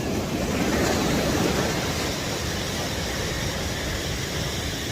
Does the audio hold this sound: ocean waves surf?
yes